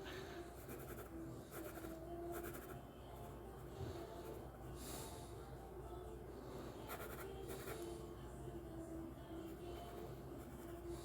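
A pencil scratches steadily across paper up close, a continuous soft rasp with faint strokes throughout, no talking.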